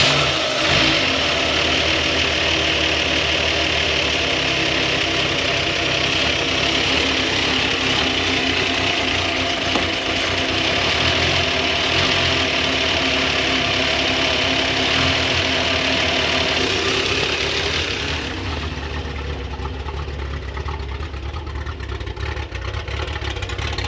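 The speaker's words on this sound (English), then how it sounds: "let's fire this thing back up and actually get to run it here a little bit" A 26-year-dormant Plymouth Duster V8 runs loud and steady at close range, revving and idling with an uneven, poppy exhaust note, then settles to a quieter idle near the end.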